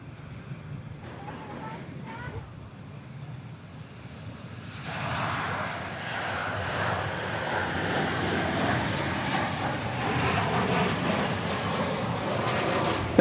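An American Airlines Boeing 787-9 Dreamliner arriving from Chicago O'Hare lands at DFW Airport. Its jet roar builds after a few seconds into a loud, broad, sustained rumble mixed with wind buffeting the microphone outdoors.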